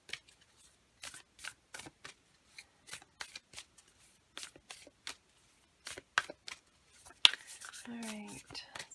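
Tarot cards are shuffled in quick, soft riffling bursts with short pauses between them, close and fairly quiet, followed near the end by a brief clatter and a rustling handling sound.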